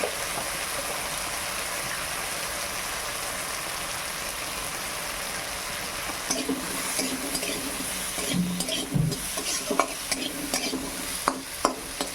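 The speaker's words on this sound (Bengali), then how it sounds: "কচুটা আগে নুন হলুদ দিয়ে ভেজে নেই ঢাকা দিয়ে" Taro pieces frying with salt and turmeric in a pan, a loud continuous sizzle with stirring and scraping growing busier toward the end.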